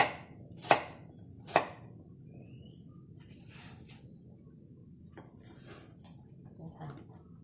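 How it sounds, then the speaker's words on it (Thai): Two sharp knife chops on a cutting board as pineapple is cut, ringing out near the start, then the kitchen goes quiet apart from faint, scattered clinks. "ตอนนี้เราหั่นสับปะรดเรียบร้อย"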